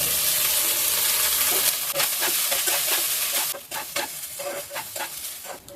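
Rice with grated coconut, Kashmiri chili powder and lemon juice is stirred in a sizzling pan, a steady frying hiss broken by repeated scraping strokes of the spoon, loud and close.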